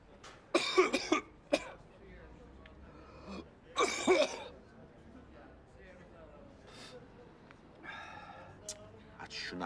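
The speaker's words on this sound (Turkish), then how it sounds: "Kazım, bu normal değil de. Çok öksürüyorsun." A man coughs in quiet indoor surroundings: a cluster of harsh hacking coughs, a second burst a few seconds later, then fainter throat noises.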